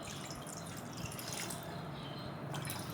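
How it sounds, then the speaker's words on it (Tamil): Water trickles and drips steadily into a pot on an induction stove while a home cold remedy is prepared, a soft continuous pour heard alone at close range. "நமக்கு தேவையான அளவுக்கு கொஞ்சமாக தண்ணி சேர்த்துக்கலாம்"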